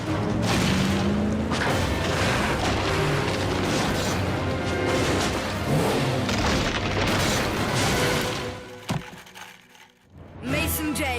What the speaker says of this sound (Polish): Wyjęcie skarbu uruchomiło tąpnięcie w jaskini.